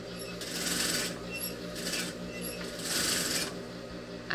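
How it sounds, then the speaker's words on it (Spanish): Sewing machine stitching a sleeve into the armhole of a peasant blouse with bell sleeves, fabric placed right sides together; the motor whirs steadily in a few bursts of stitching, close and moderately loud, with no talking. "Ubicamos derecho con derecho de las telas y cosemos por la sisa"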